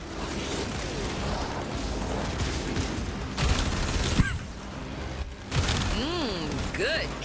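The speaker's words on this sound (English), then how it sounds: "Oh, this is artillery." Artillery fire in the game Warframe sounds as repeated heavy gunfire and booms under a dense mix of game sound, with whooshing tones and talk over it.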